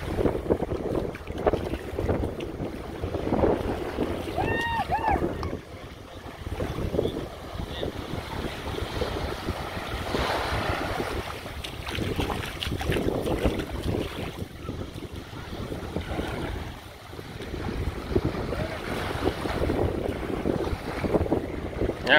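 Gusty wind of about 20 mph on a Florida Keys beach pummels the microphone in uneven surges over the steady wash of Atlantic waves, with a faint bird call early on.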